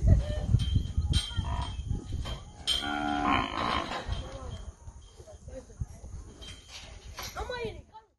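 Cattle low and moo at the Launakalana Ranch in Central Province, shipped from Morobe Province. Several drawn-out calls rise above steady background noise. A voice speaks through much of it.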